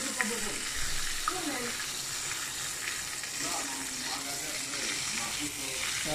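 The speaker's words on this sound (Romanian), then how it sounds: "Continuăm cu prăjitul." Crucian carp fries in a pan with a constant close sizzle and crackle, a dense, even hiss with occasional small pops throughout.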